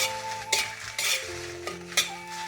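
Chillies fry in oil in a wok while a spoon stirs them, a few distinct scraping clinks over a soft sizzle, with a steady tone beneath.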